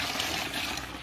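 Water pours steadily into a small portable mini washing machine, a continuous close splashing fill with no talk over it.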